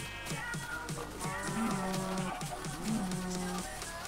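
Several cows in the video game Minecraft moo repeatedly at close range, with low drawn-out calls overlapping one another on a farm, and no talking over them.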